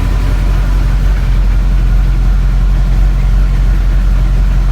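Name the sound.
car engine idling with exhaust rattle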